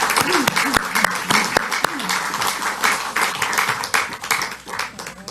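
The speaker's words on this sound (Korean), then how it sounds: "다시 한 마음을 담아서 큰 박수 보내주시면" A political party gathering in Korea breaks into big applause for an outgoing floor leader. Many hands clap at once, with sharp individual claps standing out, and the sound swells and fades unevenly over several seconds.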